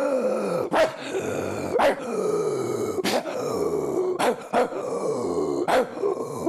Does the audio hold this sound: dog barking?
yes